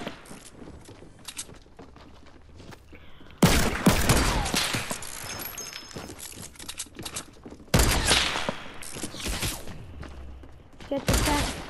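Bursts of gunfire in a Fortnite match, with long dense volleys of rapid shots, loud and close, separated by quieter stretches of footsteps and movement, while players talk over the action.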